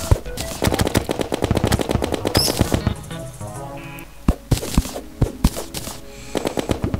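Rapid gunfire from the video game Terraria, bursts of shots rattling in quick succession with brief pauses, loud and up front over a game soundtrack.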